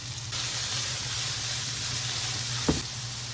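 Small carrots sauteing in a pan with soy sauce for a stir fry alongside chow mein noodles, giving a steady close sizzle with a low hum beneath and one brief clatter near the end.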